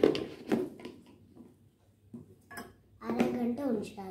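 Metal lid set onto a cooking pot in a home kitchen, a few clinks and clatters of metal on metal, close, with people talking in Telugu around it.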